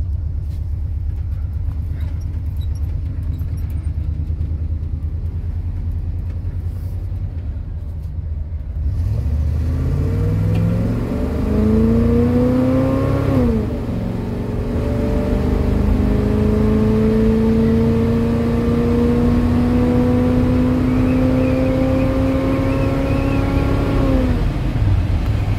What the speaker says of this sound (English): this is the 0-60 test with the throttle body injector spacer and a brand new throttle body